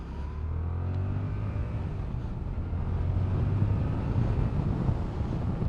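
Yamaha MT-07 motorcycle engine pulling steadily under acceleration, recorded on the move with heavy wind rush over the microphone; a continuous low drone that swells slightly toward the middle, with no talking.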